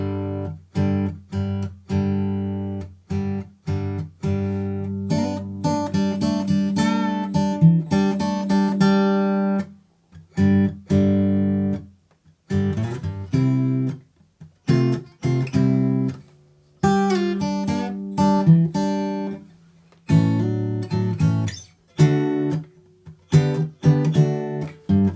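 Acoustic guitar plays the intro to a song, with plucked, strummed chord hits in short bursts separated by brief pauses, close and clear with no talking.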